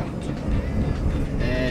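A car drives along a street with a steady, loud rumble of engine and road noise, and a voice speaks over it.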